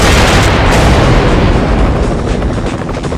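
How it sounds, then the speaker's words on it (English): Explosive drums blown up by gunfire in a mobile shooter game, a dense, loud roar of booming blasts and crackling bursts running continuously with no pause. "Shoot the drums to explode them!"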